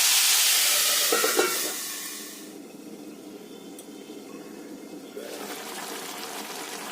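Ridge gourd and potatoes cooking in a pan, sizzling loudly at first with a few stirring scrapes, then quieting to a soft steady bubbling once covered before the sizzle rises again near the end.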